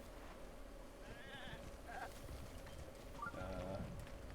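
A couple of short bleats from a goat in The Legend of Zelda: Breath of the Wild, moderately close, over steady rain patter and faint game ambience.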